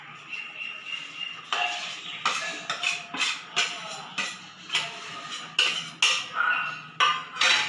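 Chopped jaggery being mixed into sanja in a pan, with repeated close clinks and scrapes of a utensil against the pan in an uneven rhythm, no talking.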